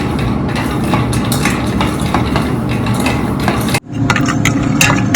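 Dry fruits, almonds among them, are stirred and dry-fried without ghee in a pan, giving a steady rattling scrape with a brief pause before the stirring resumes, close and loud with no talking.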